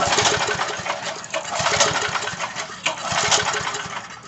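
Flooded Coleman Powermate 2000 watt generator engine, PM54-2000 model, sputtering as it tries to start, with rapid irregular firing thumps over a harsh, loud mechanical rattle, close up.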